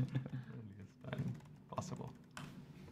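Typing on a computer keyboard, heard as quick bursts of soft key clicks that stop and start, with a person talking over them.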